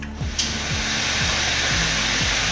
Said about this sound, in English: want to set your dryer on medium heat